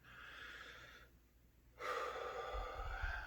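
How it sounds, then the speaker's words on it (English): A person draws a long, breathy inhale through the nose, close and clear; a quieter breath comes first, then a pause, then the louder breath in, with faint low rumbling near the end. "We're going to breathe in."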